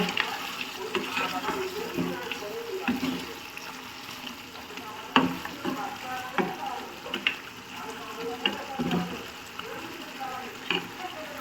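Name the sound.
stirring chicken curry in a covered pot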